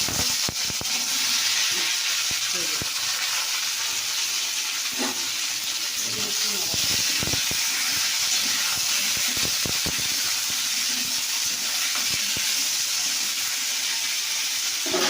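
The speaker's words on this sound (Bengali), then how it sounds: "দেখো 5 ফোড়ন তেলটা কিন্তু হয়ে এসছে, এই জন্য আমি দেখো ছাড়ছি" Panch phoron spices sizzle in hot oil with a loud, continuous frying hiss, broken by scattered small pops and crackles throughout.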